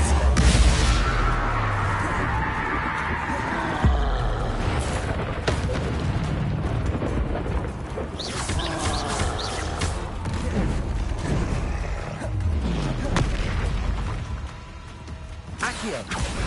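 Fiery Confringo spell blasts from the video game Hogwarts Legacy burst out in repeated booming explosions, one after another, over a dense, continuous wash of in-game sound.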